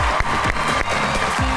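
An audience claps in a studio to welcome Rashid Kamal and Aslam Chitta, a brief, loud and dense burst of applause that fills the whole moment.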